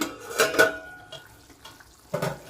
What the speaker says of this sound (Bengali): আবার আমি 4-5 মিনিটের মতো এটা ঢেকে দেব।